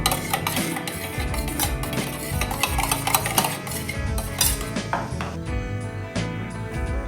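Ingredients for an egg sukka are stirred together with turmeric and salt, producing busy, close scraping and clinking of a utensil against a pan over a continuous loud clatter, with no talking.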